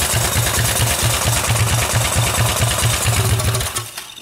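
A small gas engine on a motorized BMX bike runs loud and steady at high revs with a rapid buzzing pulse, then drops off sharply near the end as the throttle is released.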